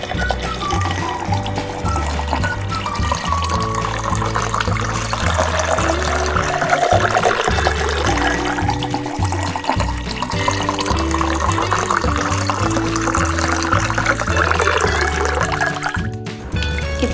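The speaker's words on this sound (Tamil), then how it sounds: "தண்ணி ஊற்றிக்கலாம் கிளாஸில்." Water is poured into an empty glass while making beetroot lemon juice, a steady filling sound running beneath loud, continuous background music.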